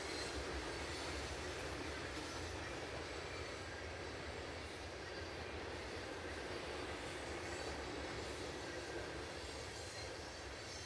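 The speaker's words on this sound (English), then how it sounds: "This UP train is running in some fine countryside" A steady, continuous rumble of a passing Union Pacific diesel freight train in open countryside near Kansas City, with broad rolling noise and faint wheel squeal, unchanging throughout and with no voices.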